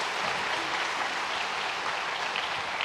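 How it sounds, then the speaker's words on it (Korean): A congregation at a Sunday church service claps loudly and continuously for a children's futsal team receiving a championship flag after winning gold, a dense, even wash of applause with no voices over it. "큰 박수 다시 한번 축하해 주시면 감사하겠습니다"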